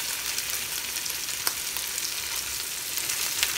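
Red snapper fish fries in a pan of hot oil, giving a steady close sizzle and crackle throughout with occasional sharper pops and no voices.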